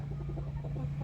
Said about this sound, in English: He's a good little rooster.